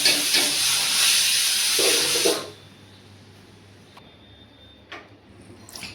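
A home pressure cooker of chickpeas vents a loud, steady jet of hissing steam in a kitchen for about two seconds, then cuts off abruptly, leaving a quiet room with a few small clicks and taps.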